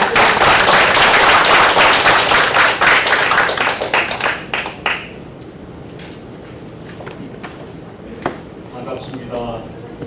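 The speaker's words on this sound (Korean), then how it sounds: "큰 박수로 맞이해주십시오" Seminar audience members at an AI seminar applaud to welcome a speaker, loud, dense clapping for several seconds that thins into scattered claps and fades, with quieter room sounds and sparse taps after.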